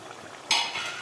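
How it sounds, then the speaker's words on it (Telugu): Chicken and masala frying in a pan for dum biryani give a soft, steady sizzle that swells slightly louder halfway through, with no talking. "చికెన్ బాగా వేగాలి"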